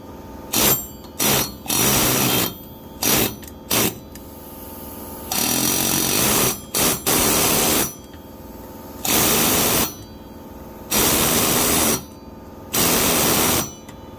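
Penetrating spray aimed at a stuck PTO pulley and washer on a 125 automatic with the hood removed: loud hissing bursts, some short and several longer blasts, up close with silent gaps between them.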